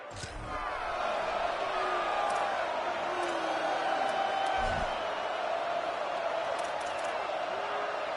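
A college football video game stadium crowd roars as a continuous dense wash of noise, with scattered whoops and cheers rising from it, moderately loud and steady throughout.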